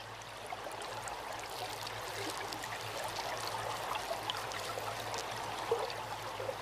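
River water flows steadily in a continuous, even wash of trickling and gurgling that stays moderately faint and unbroken throughout, with no voices.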